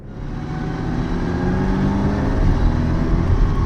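A deep, loud Porsche 718 Cayman engine drone with the exhaust button on rumbles steadily and builds slightly toward the end, heard from inside the car with no talking.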